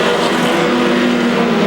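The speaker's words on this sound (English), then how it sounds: "That four trucks trying to single themselves out and pull away from the rest of the field." Race trucks roar around the oval at Seekonk Speedway in a 1999 truck feature, a loud continuous engine drone with overlapping motors holding steady throughout, no voices.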